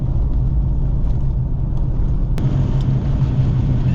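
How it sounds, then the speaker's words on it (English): A car climbing a steep hill road in the Warrumbungle area, on the way up to White Gum Lookout, gives a steady, close engine and road rumble that holds at a constant level with no talking. "This is a pretty steep hill to drive up."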